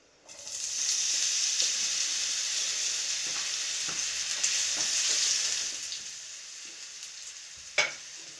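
Potatoes dropped into hot oil set off a loud, steady hiss of frying that holds for several seconds, then fades, with a sharp clink near the end.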